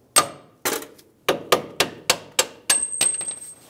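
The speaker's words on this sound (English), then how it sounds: "So what we're gonna do is remove this one bolt." Sharp metallic hammer strikes on the front strut bolt of a 2011-2017 Honda Odyssey: about nine distinct, close, loud blows at an uneven pace, some ending in a brief high ring.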